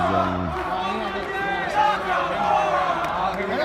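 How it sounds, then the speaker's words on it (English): A wrestling arena crowd at a WWE NXT match in Las Vegas rises into a roar of cheering and chatter that keeps going, mixed with clear voices speaking close by. "There goes the crowd"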